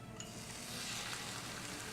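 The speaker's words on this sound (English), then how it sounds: "while the garlic is sizzling, I'm gonna put the bean curd" Garlic sizzles in oil in a frying pan on a stove, a steady crackling hiss that grows slightly louder and is heard alone with no talking.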